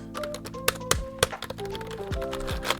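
Keys clacking on an old stock computer keyboard, typed in uneven bursts with a few heavier thunks, close and fairly quiet, no talking.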